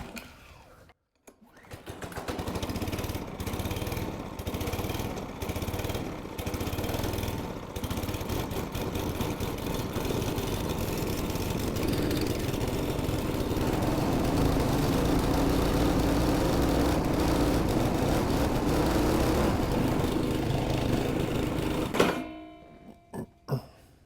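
Small two-stroke string trimmer engine with a bent spindle running steadily and loudly, a close buzzing drone that holds for about twenty seconds after a brief start, then cuts off.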